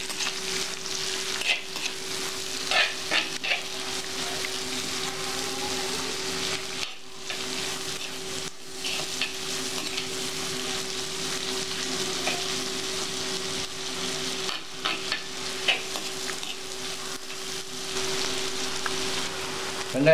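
Onions, green chillies and curry leaves sauté in a hot pan for an egg masala, giving a steady close sizzle and crackle with occasional stirring scrapes, no voices.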